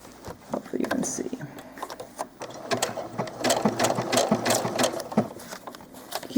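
Sewing machine stitching doll clothes, bursts of rapid mechanical clatter starting and stopping at close range, with a voice talking over parts of it.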